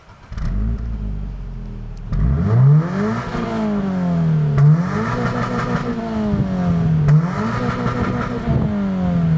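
A 2023 Toyota GR86 revs through its dual exhaust, making three rising and falling throttle blips over a steady idle. The sound is loud and close, with a deep growl and no talking.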